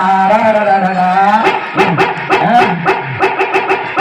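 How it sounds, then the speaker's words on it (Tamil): A dog barks repeatedly in quick, close, loud bursts, with whimpering, yelping tones in between, outdoors at a temple milk festival in Sadaiyanpatti. "என்ன நாய் குலைக்குது?"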